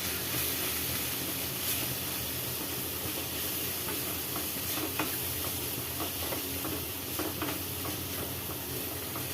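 Meal maker keema with salt and masala is stirred in a frying pan, giving a steady soft sizzle with scraping strokes and occasional sharper clicks of the spoon, and no voices.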